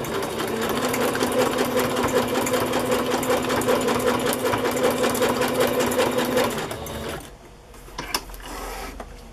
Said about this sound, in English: I'm going to use messy stitch twice around to sew it onto the page